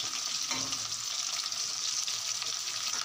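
Chicken pakora frying in oil, a steady close sizzle and crackle with a brief stir partway through.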